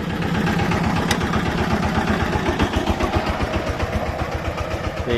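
An old Japanese Yanmar 11 hp walk-behind tractor with three gears and a low-high range runs close by, its single-cylinder engine chugging in a loud, rapid, even thumping rhythm throughout.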